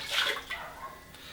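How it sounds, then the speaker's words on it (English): Water poured into an antique Himalayan singing bowl, a short close splash and trickle that fades into soft sloshing. "If I put a little bit more water in the bowls,"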